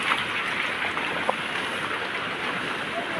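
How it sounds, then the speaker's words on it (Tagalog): Heavy typhoon rain from Typhoon Carina pours steadily over a flooded neighborhood, a dense, continuous hiss of water with a few faint voices underneath. "lumakas ang ulan"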